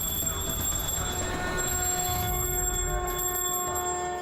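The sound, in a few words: temple bells ringing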